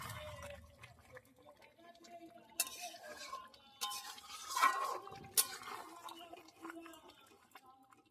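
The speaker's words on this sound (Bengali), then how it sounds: "মাংস কষানো হচ্ছে" Meat being sautéed and stirred in a pot, with scattered metal-spoon scrapes and clinks against the pot over a soft frying hiss, quiet and intermittent.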